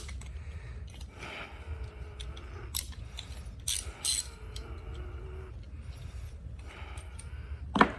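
A homemade firing pin being tightened, giving close, faint clicking and ratcheting metal sounds in uneven bursts with soft scrapes between them and no talking.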